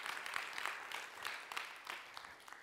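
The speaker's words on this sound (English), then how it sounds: "give the Lord a clap of praise" A church congregation claps in praise, faint and loose, with several uneven surges of clapping across a few seconds and no talk.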